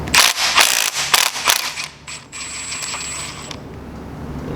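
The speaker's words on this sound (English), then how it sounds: "Alright, so we got our spark plug wrench. Let's see if we can't get this off." A spark plug wrench ratcheting a plug out of a 5.3 LS engine, a quick burst of loud clicking ratchet strokes followed by a quieter stretch with a faint high whine.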